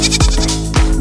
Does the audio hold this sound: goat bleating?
yes